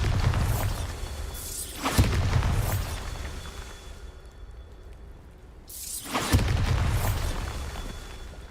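Two heavy blasts from the Bombarda explosion spell in Hogwarts Legacy boom out a few seconds apart, each a sharp, loud burst with a crackling shatter and a rumbling tail over a constant roar of game ambience.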